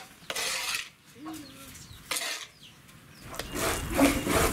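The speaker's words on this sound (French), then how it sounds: "Dans le grand plat en terre cuite spécialement conçu à cet effet, la mamie de Dave brasse minutieusement le manioc devenu semoule." Cassava semolina (gari) is stirred in a large clay pot, giving dry rasping, scraping strokes that come in a few slow, separate passes and build toward a louder, rougher scrape at the end, with no voices.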